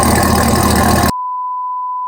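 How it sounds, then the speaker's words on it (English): A supercharged Camaro ZL1 engine roars loud and close for about a second with exhaust rumble and whine, then cuts abruptly to a steady, thin electronic beep tone. "to give you a little exhaust ASMR."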